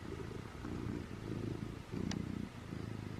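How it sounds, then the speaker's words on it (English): Loud, close cat purring in a steady rhythmic rumble, each breath cycle clearly audible, with no talking. "He's not sleeping because like he's purring so loud."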